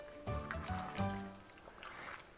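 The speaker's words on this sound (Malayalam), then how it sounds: "ഇനി ഇതിലേക്ക് നമുക്കൊരു ഏകദേശം 3/4 കപ്പ് തിളച്ച വെള്ളവും കൂടി ചേർത്ത് കൊടുക്കാം." About three-quarters of a cup of boiling water is poured into a sadya-style lemon pickle, a soft close trickle and splash that swells briefly in two surges, then settles into a quieter dribble.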